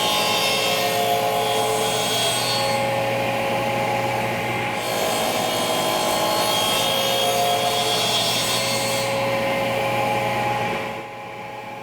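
A steady rasping saw cuts through wood, continuous and close, with brief changes in pitch before it stops near the end.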